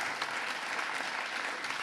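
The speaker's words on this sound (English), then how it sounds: "Round of applause" A roomful of people at a student founder showcase applauds the winner, with dense, even clapping that holds steady throughout the short moment.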